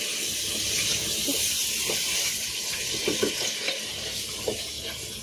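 Meat cooking in oil in a nonstick pan for tehari, a loud steady sizzle and hiss with occasional spatula scrapes as it is stirred, no talking.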